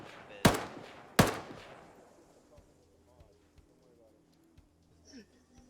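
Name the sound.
gunfire from enemy NPC in video game Arma 3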